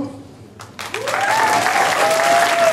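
An audience applauds at a Latvian school evening ceremony, a burst of many hands clapping that starts sharply and swells into steady, dense applause, with a voice faintly underneath.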